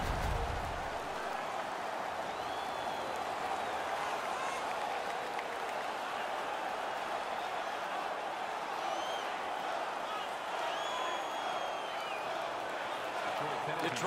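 Hockey arena crowd in NHL 17 cheering during a Detroit versus Washington playoff game, a steady roar of noise with faint whistle-like tones on top.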